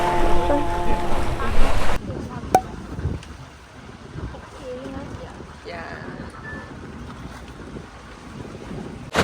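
A tourist boat motors across water at Malacca, Malaysia, engine rumble and wash of waves under steady wind noise on the microphone, with brief sharper knocks.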